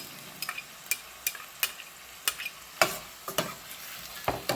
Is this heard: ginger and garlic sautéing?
yes